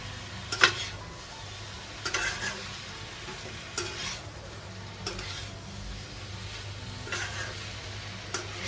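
Drumsticks and potato pieces being stirred through frying masala in a pan over a medium flame, a steady low sizzle with a spoon scraping and clinking at a slow, regular rhythm, close and fairly quiet with no talking.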